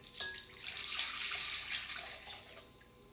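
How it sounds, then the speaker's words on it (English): Warm water runs from a tap for croissant dough, a steady hissing splash with a few drips, faint and close, with no talking. "I have warm water here."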